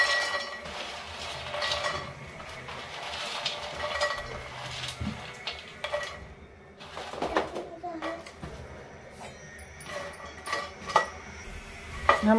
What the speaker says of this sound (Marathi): मखाना भाजून घेते कोरडा